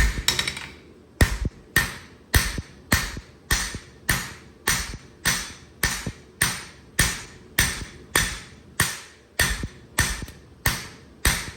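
A hand hammer strikes a knife's heel on an anvil in a steady, evenly spaced rhythm of bright, ringing blows, each one close and loud with a short decay, about one or two per second.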